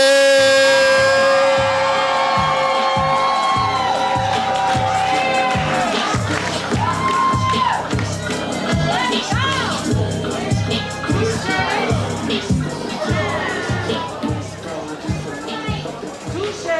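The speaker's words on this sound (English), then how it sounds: "You clapping, you're building energy. Clap, clap, clap. Make some noise for St. Atlas." A live poetry audience in Houston claps and cheers. Steady rhythmic clapping runs underneath a crowd that whoops and shouts loudly, and a host's voice rises over the noise.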